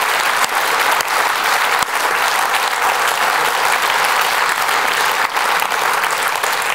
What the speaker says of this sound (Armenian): Եկեք ծափարենք առաջին հերթին 2018 թվականին։